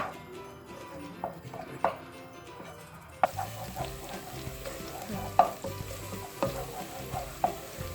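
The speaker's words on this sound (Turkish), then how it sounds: "Sarımsak pembeleşinceye kadar karıştıracağım." Garlic sizzles in a pan as it is stirred and sautéed for tarhana soup, a steady frying hiss broken by clinking scrapes of a utensil against the pan, getting louder partway through.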